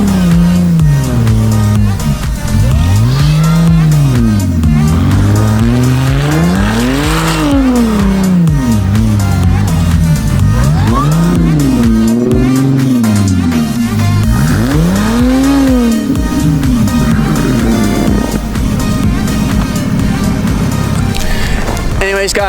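An Audi S4 drives and revs hard, its engine note rising and falling through repeated sweeping pulls. Tires squeal now and then under the loud, continuous roar.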